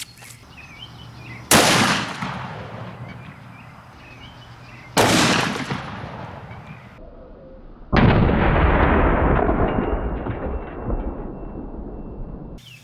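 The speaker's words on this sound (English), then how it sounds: "Alright guys, Smith & Wesson 460 Magnum" Three loud, separate shots from a Smith & Wesson 460 Magnum revolver firing 250 grain Xtreme Penetrator rounds into ballistics gel. Each blast is sharp and booming, with a long decaying tail and a few seconds of quiet between shots.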